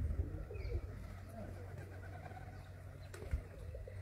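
Pigeons coo softly from a rooftop loft where fanciers keep them, a low steady murmur of bird calls over faint background hum.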